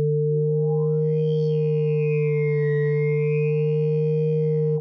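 A Pigments 4 wavetable synth patch with ring modulation and an MS20 filter, played dry without effects: a sustained, buzzy held tone with a filter sweep that rises, dips and rises again, steady and loud throughout.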